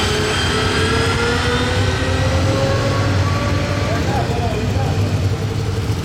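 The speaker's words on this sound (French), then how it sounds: "Oh, une Valkyrie que j'avais jamais vue encore." Aston Martin Valkyrie supercar engine running nearby on a street, a loud continuous roar that rises in pitch over several seconds with traffic and voices in the background.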